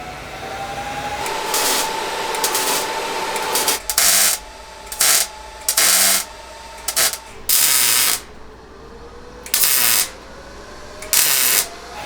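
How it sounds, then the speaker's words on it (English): Tack welds laid on 1/8 inch steel, fixing a custom brake bracket to a car's transmission tunnel. Loud, close bursts of crackling buzz start and stop in short, uneven pulses over a steady background hum. "You gotta be real careful when you're welding on the transmission tunnel like this"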